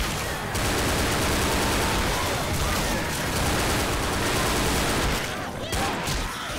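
Dense, continuous gunfire from the video game Left 4 Dead, rapid shots blurring into a loud, sustained barrage for several seconds, with a brief lull near the end and a voice speaking over it.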